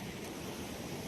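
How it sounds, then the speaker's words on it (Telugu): Sea waves surge onto a beach in Goa, a steady, loud wash of surf with a wind-like roar that holds without a break. "చూడండి అలలు పొంగిపోతున్నాయి ఫ్రెండ్స్."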